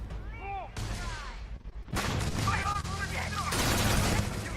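Grenade blast in the video game Starfield, a loud burst of explosive, gunfire-like crackle that fills the second half of the clip after quieter game sounds and a brief lull.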